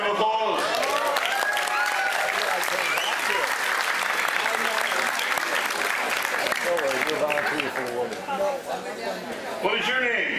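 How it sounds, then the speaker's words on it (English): A cruise ship comedy show audience breaks into warm applause, dense continuous clapping with chatter and voices mixed in, fading slightly near the end before picking up again. "Give him a round of applause."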